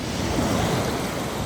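Ocean waves at the beach in Canggu, Bali: steady, loud broadband surf wash with wind noise, continuous and close, with no talking.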